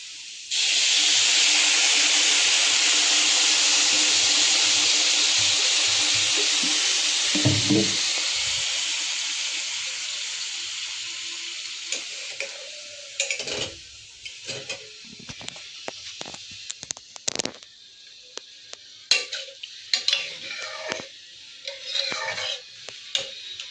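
Water splashed into frying Bengali bora rice in a hot pan, a loud rushing sizzle and hiss of steam that fades over several seconds, followed by scattered scraping and clanking of stirring, close with no talk.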